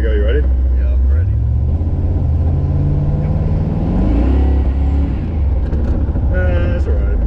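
1989 Batmobile replica car accelerating, a loud engine climbing in pitch through a long rev, dropping briefly and rising again, with people talking over it.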